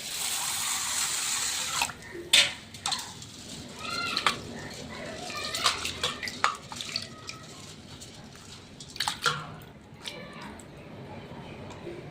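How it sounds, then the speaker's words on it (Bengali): Water splashes and sloshes as soaked rice is washed by hand, with squishy swirling bursts and a few sharp clinks, fairly close and irregular. "এটা ভালো করে ধুয়ে নেব চালটাকে"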